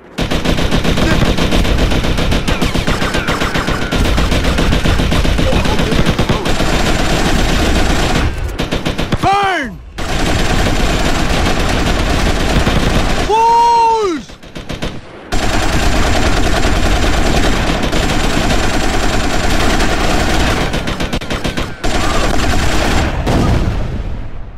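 Dense, sustained gunfire from GTA: Vice City Stories, rapid machine-gun bursts rattling almost nonstop, briefly broken by a couple of whooshing pitch sweeps before the loud firing resumes.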